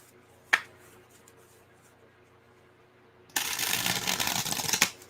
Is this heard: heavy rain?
no